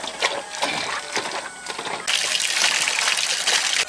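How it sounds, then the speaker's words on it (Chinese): A salted lamb stomach is rinsed under running water, first with splashy, intermittent sloshing, then a steady, loud gushing stream, close to the listener. "羊肚撒点盐，洗一洗。"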